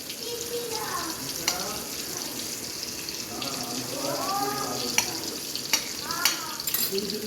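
Ghee sizzles in a pan, a steady hiss with occasional splatters and clinks, partly under a person talking.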